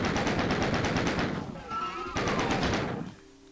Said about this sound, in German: habt die Chain Gun ready und killt die Imps und die Shotgunner